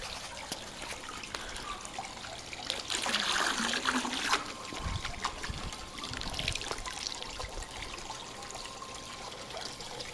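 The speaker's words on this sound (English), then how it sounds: "I'm just going to pour it around the perimeter of the pool." Liquid algicide poured from a glass around the perimeter of a swimming pool, a soft continuous trickle and splash against steady outdoor background noise, with no talking.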